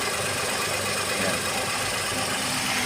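Geely Coolray engine idling after an exhaust repair, a steady mid-pitched hum with a continuous low rumble and faint vibration throughout, close by, with a brief word spoken at the start.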